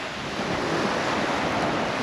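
Steady broadband rush of wind mixed with the wash of surf at Cape Hillsborough, Australia, constant and fairly loud throughout.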